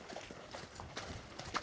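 A racehorse's hooves clip-clop at a brisk, even walk on a hard surface in a racing stable yard, with faint background noise around them.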